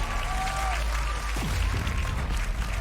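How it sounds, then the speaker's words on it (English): An esports arena crowd at a Valorant VCT Americas match between Sentinels and MIBR cheers and claps in a sustained, moderately loud roar under the casters' commentary. "And Saucy gets the crowd active in what so far is a 6-round lead here for Sentinels."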